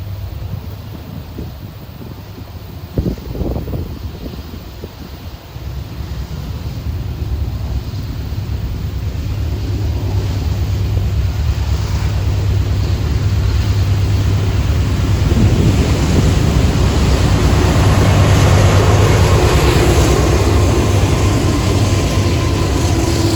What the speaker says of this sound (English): After they clear Iron Junction, they're going to start chugging up to get up to speed towards Two Harbors.